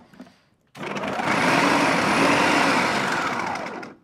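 A Vidiem Tusker mixer grinder chops a large onion: after a brief quiet start, a loud, steady high-pitched motor whir runs for about three seconds and then cuts off, with no talk.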